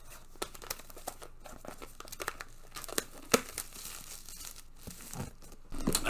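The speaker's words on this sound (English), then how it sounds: "I'll take the cellophane off" Cellophane wrap being peeled off a vinyl record box set, close-up crinkling and tearing in irregular bursts that get louder toward the end, with no voices.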